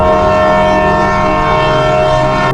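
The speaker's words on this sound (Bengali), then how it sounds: "আর তখনই আমি শুনলাম একটা বিকট হুইসেল" A train whistle blares loud and sustained, a harsh, even tone that holds for the full few seconds, set in a night-time railway station scene of a ghost story.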